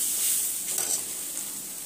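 Masala spices sizzle and crackle in a hot pan, a steady close hiss with soft stirring scrapes, no talk.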